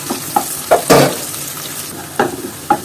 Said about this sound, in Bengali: এবার পেঁয়াজ কুচিটা হালকা করে ভেজে নিব।